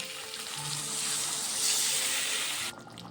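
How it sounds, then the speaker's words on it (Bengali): Water poured into a hot pan of fried potatoes and sautéed spices for aloo dum sets off a steady, close sizzling hiss that swells slightly and then cuts off abruptly near the end. "কষানো হয়ে গেছে, এখন জল দিয়ে দেব।"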